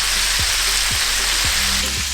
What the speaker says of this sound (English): that's when you flip it over and just let it cook for approximately 8 minutes